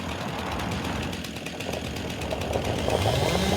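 A rough, buzzing lawn mower engine in Farming Simulator 25 drones steadily and loudly, rising slightly toward the end, with no voices.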